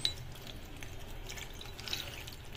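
Water poured into a bowl of large pumpkin leaves, a faint steady wash of liquid with a couple of small splashy accents, no voices.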